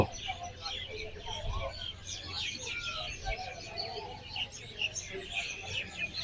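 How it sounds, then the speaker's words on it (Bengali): Many small birds chirp and twitter continuously at a moderate distance at Maizbhandar Darbar Sharif shrine in Fatikchhari, Chattogram, Bangladesh, a busy overlapping chorus with a low murmur underneath. "পাখির কিচির মিচির"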